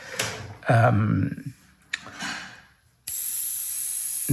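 A spray gun test-sprays candy color paint onto paper, ending in a sudden steady hiss of air and paint after earlier bursts of handling noise and brief talk.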